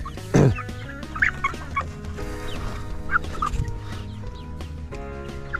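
A white Cochin bantam cockerel clucks close by in a poultry yard. One loud squawk comes first, then short clucks and throaty calls from the flock over a steady background hum.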